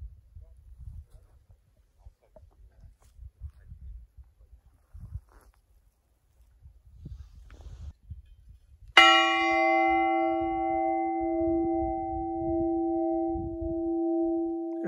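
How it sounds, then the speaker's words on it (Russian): A single loud strike of a recently cast church bell rings out and sustains with a long humming tone, following quiet rustling and faint background noise. "Этот колокол был относительно недавно отлит и установлен"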